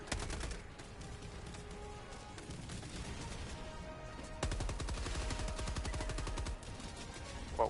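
A machine gun in the video game Helldivers 2 fires long, dense bursts of rapid automatic shots with almost no pause. The loud, rattling volleys run through the whole stretch, with a brief dip midway before the firing picks up again.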